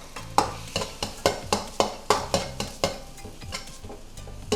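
Fried rice with pork cracklings stir-fried in a pan, a spatula striking and scraping in a steady rhythm of about a dozen sharp clanks over a soft background sizzle, close and clear.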